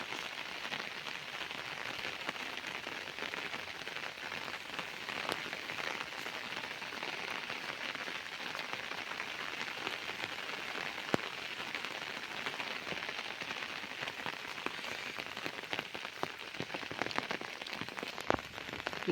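Morning rain falls steadily outdoors near paddy fields where harvested rice grain lies out getting soaked, a dense, even patter on surfaces with scattered sharper drops, moderately faint and without talk.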